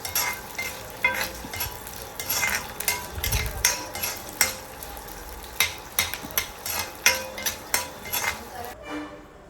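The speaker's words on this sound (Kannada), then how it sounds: "ಒಂದು ಕಡಾಯಿಯಲ್ಲಿ ನಾನು ಎಣ್ಣೆ ಹಾಕಿಬಿಟ್ಟು ಶುಂಠಿ ಬೆಳ್ಳುಳ್ಳಿ ಕರಿಬೇವು ಹಾಗೆ ಒಂದು ಈರುಳ್ಳಿ ಹಾಕ್ಕೊಂಡು ಚೆನ್ನಾಗಿ ಫ್ರೈ ಮಾಡ್ಕೊಳ್ತಾ ಇದ್ದೀನಿ" Ginger, garlic, curry leaves and onion fry in oil in a kadai for egg curry, under a continuous sizzle broken by rhythmic scrapes and clanks of a ladle against the pan, close and fairly loud.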